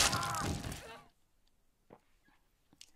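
Glass shatters in a scene from the Fallout TV series, episode one, "The End": a bright, crashing burst mixed with loud voices in the first second, then near silence with a few faint knocks.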